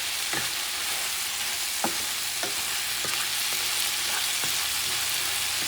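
Food sizzling in a pan with smoked paprika and tomato sauce, a constant loud frying hiss with a spoon scraping and knocking against the pan in spaced strokes, close and with no talk.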